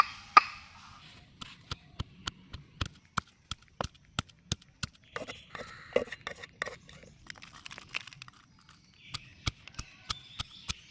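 Chopped onion, green chilli, garlic, ginger and coriander are pounded for a chicken keema kebab, a series of sharp, close, dry knocks in an irregular rhythm with brief pauses, some in quick runs, alone without voices.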